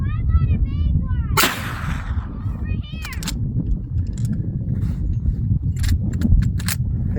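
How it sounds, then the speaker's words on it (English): A lever-action rifle fires a single sharp, loud shot at a 230-yard target, with a man's speech before it and brief clicks and rustles afterward. "this is my 5th shot."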